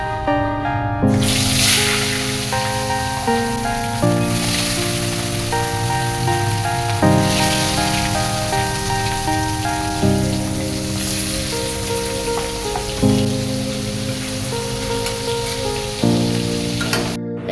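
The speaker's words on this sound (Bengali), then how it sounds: "এখন কড়াইতে মাছ দিয়ে দেবো" Fish fries in hot oil in a wok with a continuous crackling sizzle, heard under steady background music throughout.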